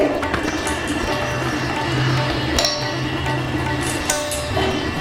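A metal lid set onto a cooking pot of Bengali moong dal with potol, giving a brief clink amid steady kitchen background noise, close by.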